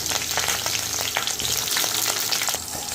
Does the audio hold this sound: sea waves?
no